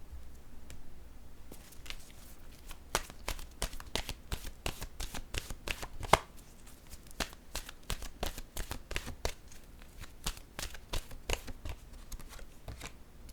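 Oracle cards from an intuitive soul deck shuffled and drawn by hand, a quiet run of rapid crisp flicks and papery slaps in irregular bursts, close and alone.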